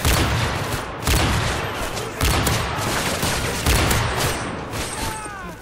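Dense, continuous gunfire in Call of Duty Modern Warfare 3 co-op survival on an underground map, bursts of rapid shots and thuds running loud and steady throughout.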